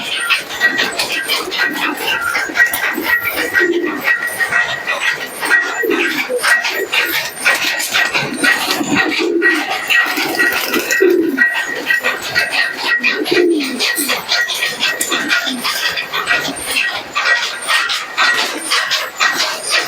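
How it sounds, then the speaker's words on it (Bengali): A flock of seventy to eighty pigeons coos continuously, soft repeated throaty calls overlapping close by, with wing flutters and scuffling in the background. "দেখতে পাচ্ছেন আমার সত্তর আশি পিস কবুতর আছে"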